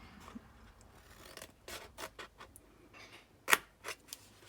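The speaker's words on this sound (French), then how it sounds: "Donc je coupe sur les plis." Scissors snip along the folds of a paper box in a quick series of close, crisp cuts and rasps, with one sharper snap near the end and no talking.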